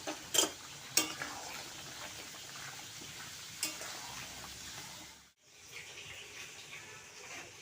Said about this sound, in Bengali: ঘি দিয়ে দিলাম। নাড়াচাড়া করে আমার তরকারি হয়ে গেল।